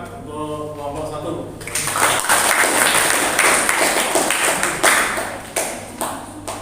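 A classroom audience bursts into applause for a student group after their infographic presentation, starting after a brief spoken voice and continuing as dense, steady clapping with some distinct sharp claps, fairly close and loud.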